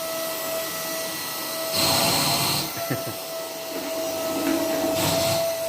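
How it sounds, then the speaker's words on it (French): Vacuum cleaner used to groom a dog, a steady hiss and whir running throughout, swelling louder in bursts as the nozzle moves over the coat, close by with no talk. "Il kiffe l'aspirateur."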